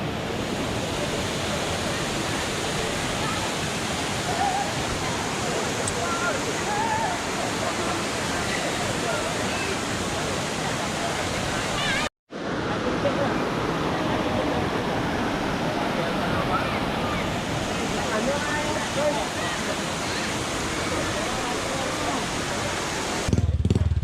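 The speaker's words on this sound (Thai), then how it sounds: "สวยมากเลยน้ำตก" A busy tourist waterfall in Thailand roars with a loud, continuous wash of falling water, broken by one brief dropout midway.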